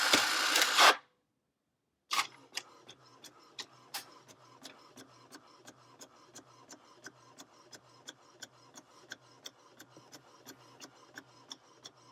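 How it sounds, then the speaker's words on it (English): A printer prints a cardstock sheet: a brief loud whir as the sheet feeds, a short pause, then a steady mechanical run of rapid clicks and ticks from the printhead, moderately close. "So I'm gonna load the sheet into my printer."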